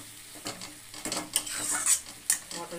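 Mutton masala being stirred and fried in a pan, with a spoon scraping and clinking against the metal over a steady sizzle, in short repeated strokes close by.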